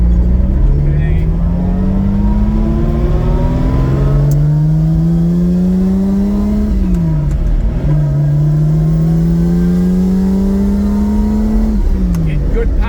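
A Lamborghini Miura SV on a hot-day test drive accelerates hard and loudly from inside the car. Its engine note climbs steadily through each gear, drops sharply at two clean upshifts, then pulls upward again.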